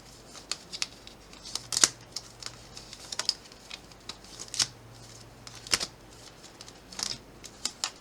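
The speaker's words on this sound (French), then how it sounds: "Je cherche la carte qui va bien." Tarot cards shuffled and handled during a reading, giving soft papery riffles and sharp slaps and flicks at irregular intervals, close and fairly quiet, with no talk.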